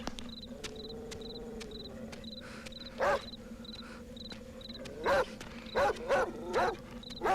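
A dog gives about six sharp barks, spaced apart and growing more frequent toward the end, over a steady backdrop of rhythmic cricket chirping.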